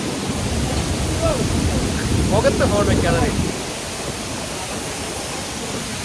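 Five Falls near Courtallam roars as a steady, loud wash of falling water with wind and spray, while people talk briefly over it in the middle.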